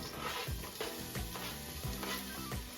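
Onions fry in vegetable oil for a curry, crackling and hissing nearby with repeated low knocks and scrapes from stirring at a steady rhythm.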